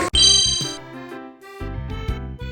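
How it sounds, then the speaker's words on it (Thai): A bright, tinkling bell jingle rings out alone as a short subscribe-bell sound effect, with sparkling high chimes over a steady tonal backing that pauses briefly then returns. "กดกระดิ่งกุ้งกิ้งกิ้งเลยนะคะ"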